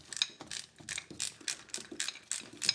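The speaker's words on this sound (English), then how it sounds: "Nice little built-in ratchet to bring the big stopper down or bring it back up again." Ratcheting metal legs on a DIY milling tool station stand, adjusting a large stopper, give a rapid series of bright, close clicking bursts repeating about every half second with no talk.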